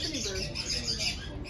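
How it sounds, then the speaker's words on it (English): A green-winged macaw gives a brief, close vocalization, a raspy, voice-like squawk lasting about a second and a half. "What did that macaw say?"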